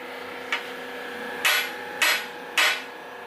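Four sharp metallic taps, one light then three firmer, as a bronze-tipped oil injector from a Mazda RX-7/RX-8 rotary engine rebuild is struck tip-down against a hard surface; close, crisp and alone with no voices.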